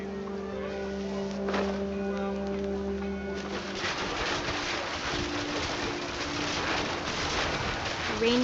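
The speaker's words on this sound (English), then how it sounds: "The rain came down in buckets then" In the video game What Remains of Edith Finch, a low, steady hum gives way partway through to a dense, continuous hiss of heavy rain that carries on to the end.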